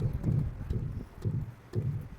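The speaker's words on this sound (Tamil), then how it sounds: "என் குதிரை ஓடி வந்துக்கிட்டு இருக்கு." A horse's hooves gallop in repeated clustered thuds, about three to four groups in two seconds, loud and close, with little else audible.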